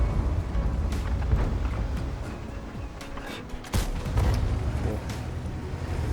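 Loud booming cannon blasts from a game, with a sharp heavy shot in the middle amid rumbling explosions.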